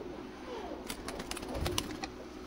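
Pigeons of a Pakistani bloodline, kept at a breeder's loft in Kolkata, coo softly and briefly with a faint flutter. The sound is distant and low in level, and there is no clear talk.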